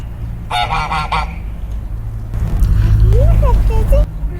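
A rooster gives a quick burst of loud, repeated honking cries, then softer, higher squeaky calls over steady background noise.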